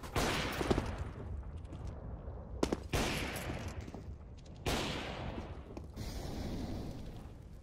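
Rifle gunfire from an AK-47 and an AWP in a CS:GO match, with sharp shots and rapid bursts in several distinct clusters separated by short gaps, loud and close.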